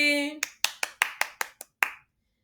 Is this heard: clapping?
yes